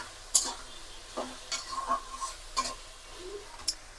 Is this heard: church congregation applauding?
no